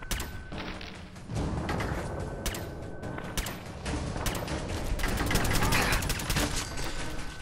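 Rapid gunfire from the Deliverer pistol in Fallout 4, a dense run of sharp shots over roughly seven seconds mixed with combat noise and impacts, loud and close throughout.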